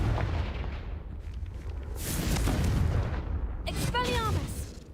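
Hogwarts Legacy's Confringo spell fires off in a loud, close booming blast with crackling bursts, surrounded by rumbling combat noise and brief game voice sounds.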